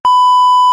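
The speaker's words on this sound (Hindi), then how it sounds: "इसको बीप करना पड़ेगा।" A single steady censor beep, a loud pure electronic tone held for well under a second with sharp onset and cutoff, standing alone.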